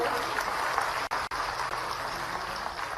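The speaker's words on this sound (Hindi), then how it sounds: "सभी लोग जोरदार तालियों से उनका अभिनंदन करें।" Applause from an audience at a rural Jabalpur political welcome ceremony, steady dense clapping throughout, with two brief dropouts near the middle.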